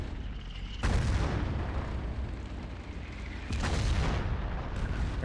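Tank cannon fire in Battlefield 1942 during an armor match, two heavy booming blasts a few seconds apart, each with a sharp onset and long rumbling tail over continuous battle noise.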